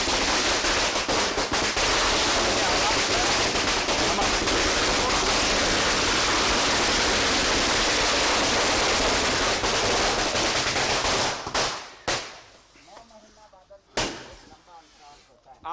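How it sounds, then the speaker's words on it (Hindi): Fireworks crackle in a dense, continuous barrage at a welcome celebration in Ranchi, loud and close, mixed with crowd noise and voices, then cutting off near the end leaving a few sharp isolated bangs. "आतिशबाजी हो रही है"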